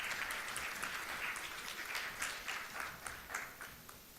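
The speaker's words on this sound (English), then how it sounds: "Please give her a big round of applause." An audience at a women's leadership conference applauds after a speaker is introduced. The clapping is distant and faint but continuous, with soft swells throughout.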